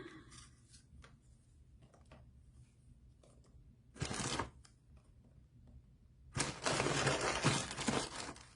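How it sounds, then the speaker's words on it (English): Vanilla wafers dropped and pressed into vegan banana pudding, giving dry crinkling, rustling bursts, one short crunch and then a longer louder scrape and crackle near the end, close and with no talk. "I'm going to put some vanilla wafers in."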